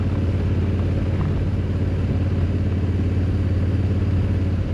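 A 2024 Honda Africa Twin Adventure Sports motorcycle cruises at speed, a steady, loud engine drone with a deep low rumble and constant road roar; no voices.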